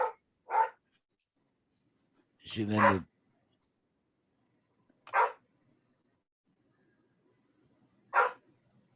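A female dog barks sharply indoors, single barks spaced several seconds apart, one lower and longer, while someone talks quietly between them.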